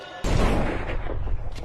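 A sudden loud gunshot blast in a film scene hits near the start, followed by a sustained roaring, rumbling noise that slowly fades but stays heavy throughout.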